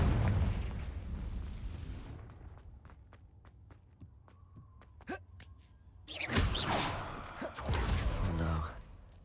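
A Confringo blasting spell cast in Hogwarts Legacy goes off as a sharp burst after a stretch of faint steps and clicks, followed by a loud, roaring spread of fiery crackle and rumble.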